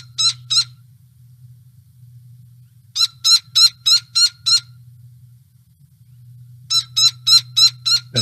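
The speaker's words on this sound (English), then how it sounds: "Here's the Gila. It's going to sound like a squeaky toy." Gila woodpecker calls in southeast Arizona, squeaky toy-like notes given in quick rhythmic series of two, then six, then six, loud and clear over a low steady background hum.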